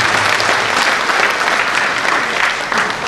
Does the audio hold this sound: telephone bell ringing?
no